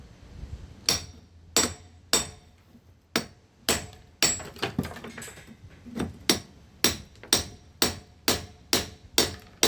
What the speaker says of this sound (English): when I'm doing this chiseling